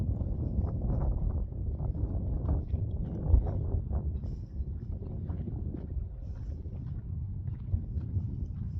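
Strong, cold outdoor wind buffets the microphone in steady low rumbling gusts on a slippery street, loud and continuous with no talk.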